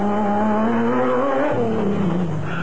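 A Team Ford Racing Ranger off-road race truck in a desert rally, its engine droning loud and steady at close range, pitch sliding down and back up as it drives past.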